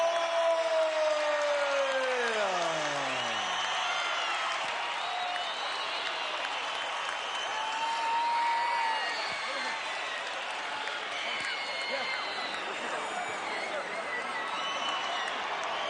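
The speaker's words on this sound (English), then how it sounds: "But a round of applause for two-time world champion John Molina." A boxing arena crowd at a world championship bout applauds and cheers in a sustained roar, loud and dense, with an announcer's voice carrying over it at the start.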